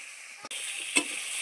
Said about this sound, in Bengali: মশলাটার সঙ্গে আলুটা এখন কষতে থাকবো।